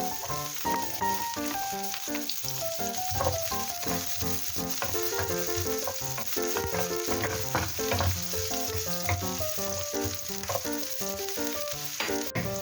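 Onions sizzling and frying in a pan for chicken liver adobo, a continuous crackling hiss with occasional stirring clatter, close and steady throughout.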